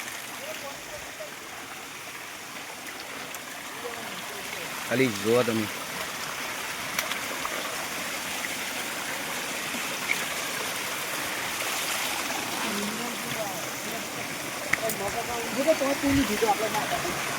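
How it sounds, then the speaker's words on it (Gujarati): A mountain stream at Mahor waterfall runs in a steady broadband rush of flowing water, continuous throughout, with someone speaking briefly over it. "જો આ પાણી પીવા લાયક શુદ્ધ પાણી આવે પાછું, જોરદાર પાણી આવે છે."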